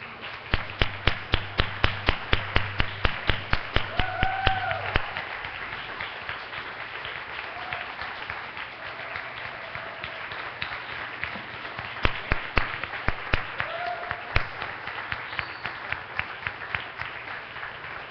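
Church congregation applauding the fathers standing at a Sunday service, beginning with sharp, evenly spaced claps that loosen into a softer spread of scattered clapping, then returning to a few distinct louder claps toward the end.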